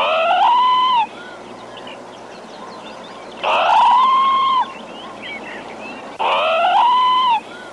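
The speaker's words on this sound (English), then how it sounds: "Parrot." A parrot gives three loud, close calls, each a harsh, rising squawk lasting about a second, separated by short pauses over a quiet background.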